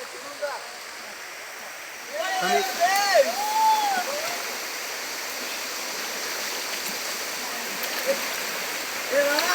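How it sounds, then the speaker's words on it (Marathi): A clean, fast-flowing stream in Dapoli, Konkan, where people are catching crabs, gives a steady broadband wash of running water. A brief whistle-like voice and light talk rise over it near the start. "पाणी पण मस्त एकदम शुद्ध आणि वाहत आहे"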